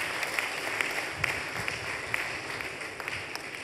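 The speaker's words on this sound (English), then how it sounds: "I think he deserves a big round of applause" Audience applause for Pastor Tunde Olukoya at his 60th celebration, a steady moderate clapping wash from a church crowd with scattered sharper claps, fairly distant and continuous without any talk.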